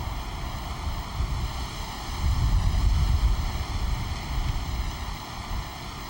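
Wind gusts around the tee area of Shinnecock Hills golf course, buffeting the microphone in a low, rumbling roar that swells and eases in uneven surges over a steady hum.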